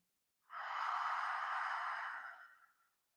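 A single slow, breathy exhale during yoga breathing, close and clear, rising quickly then holding a steady airy hiss before tapering off into silence.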